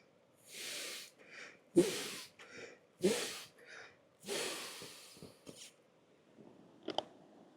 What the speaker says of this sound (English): you can skip this and just blow directly into the valve